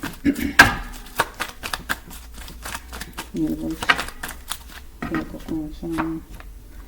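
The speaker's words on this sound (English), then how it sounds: "No, let me just shuffle." A deck of cards is riffled and shuffled in quick bursts of crisp snaps, up close, while a person speaks intermittently.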